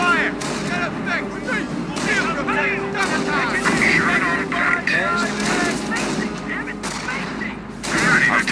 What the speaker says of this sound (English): Engineer squad under fire.